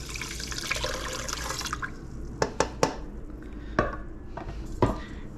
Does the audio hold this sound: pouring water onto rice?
yes